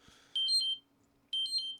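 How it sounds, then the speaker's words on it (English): A smartphone alarm warning of high blood sugar sounds twice, a bright chirping electronic tone in two short bursts with a pause between, close and clear over a quiet room. "Hang on, the alarm's going off."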